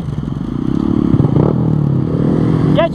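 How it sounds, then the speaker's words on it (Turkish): A Honda MSX 125 Grom motorcycle with a loud exhaust idles close by, its engine rising into a brief rev before settling back into a steady, throaty putter. "Egzoz patlatıyormuş. Ben de acaba patlatır mıyım? Patlatmıyor. Ama çok bağırıyor ya."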